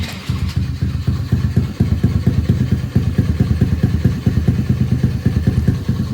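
A Honda NAVI motorcycle engine idles steadily after carburetor tuning while fully warm, a close, even mid-pitched putter with regular firing pulses and a slight mechanical clatter throughout.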